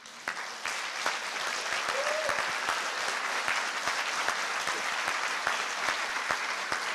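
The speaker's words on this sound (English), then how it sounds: "I hear applause in the next room" Muffled applause drifting in from an adjoining room at an agile conference in Prague, a steady crowd clapping that holds for several seconds with sharp individual claps poking through a dull, distant wash.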